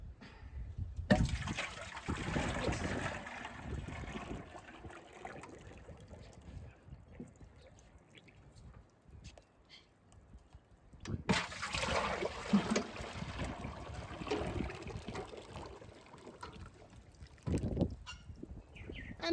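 Deck wood treatment liquid poured back into a container, two bursts of splashing, trickling pour separated by a quiet gap, close and fairly faint.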